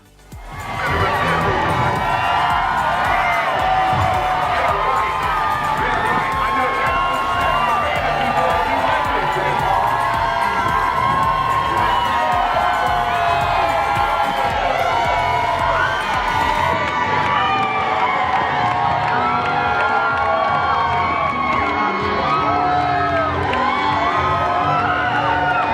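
Crowd cheering and whooping along the route of the 2017 Chicago Pride parade, a dense, continuous roar of many voices with children's shouts, close and loud throughout with no single voice standing out.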